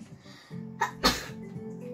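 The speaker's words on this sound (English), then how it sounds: "Oh, I just sneezed." One sharp, loud sneeze bursts out, preceded by a short intake of breath, over a quiet indoor background with a low hum.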